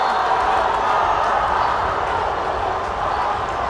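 Marlboro high school crowd in a gym during a 2015 state final basketball game against Danvers, a dense, steady wall of massed voices chanting and roaring throughout, loud and continuous with no distinct pauses.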